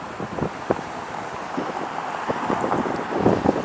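Wind gusting and buffeting straight into a microphone during an outdoor city walk, a loud continuous rumble with rising and falling gusts and no speech.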